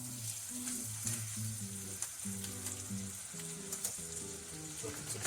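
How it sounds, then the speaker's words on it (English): A steak sizzles loudly in a pan while being basted with butter, a dense crackling fry with spoon clinks and scrapes, close up, with low background music and no talking. "Let that butter drain to one side and keep basting it."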